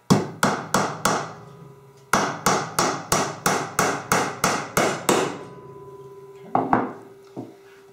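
Nails are hammered into a wooden deep 9 5/8-inch beehive frame, securing the top bar to the bottom bar. Two quick runs of sharp, evenly spaced strikes ring loud and close, then two more isolated blows follow.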